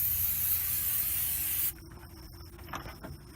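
Short burst of liquid spray hissing onto brisket at a backyard smoker, a loud steady hiss that cuts off abruptly, followed by faint handling noises.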